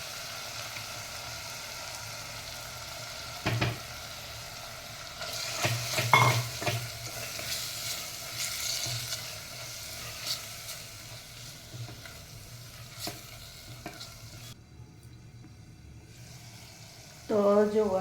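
Yogurt batter goes into sizzling masala for a dhaba-style chana dal and is stirred in, giving a steady fry sizzle with stirring scrapes and a few utensil knocks; it briefly quiets before a final burst.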